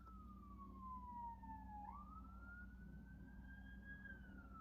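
A faint, distant ambulance siren wails in slow rising and falling sweeps over low background rumble, with no talking.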